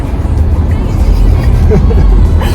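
A Tesla electric car picks up speed on a test drive, a loud, steady road and motor rush from inside the cabin that swells slightly toward the end, with voices talking over it.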